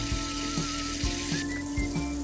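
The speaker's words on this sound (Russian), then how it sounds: "И наберем, ребята, холодную воду." Cold tap water running steadily into a pot holding chicken wing and quarter pieces, a continuous close rushing flow with small periodic knocks, no talk.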